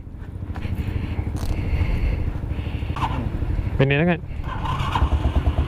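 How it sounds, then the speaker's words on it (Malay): A motorcycle engine runs steadily in neutral to warm up during a rainy ride, a continuous low rumble close by, with brief talk over it and a short tonal whine partway through. "Free gear panas enjin."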